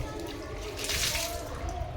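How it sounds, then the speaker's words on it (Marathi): Water pours steadily over a tulsi plant as it is washed, a close, continuous splash and trickle that swells briefly mid-clip. "तर मी धुवून काढते आता तुळस सगळी"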